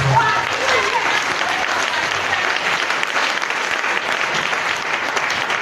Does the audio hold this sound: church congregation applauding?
yes